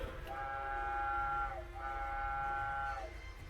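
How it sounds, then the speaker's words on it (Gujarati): A battery-powered ride-on toy train at Atal Sarovar in Rajkot sounds its electronic horn in two long, even blasts, one after the other, close by over a faint background hum. "આ છે હોર્ન, જો તમને વગાડીને બતાવી દઉં"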